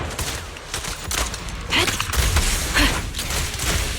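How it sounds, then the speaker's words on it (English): Distant gunshots from a Grim Vulture enemy in the video game Zenless Zone Zero crackle in rapid bursts amid busy combat noise and thuds, with no talk. "Watch out for Grim Vulture taking shots from afar!"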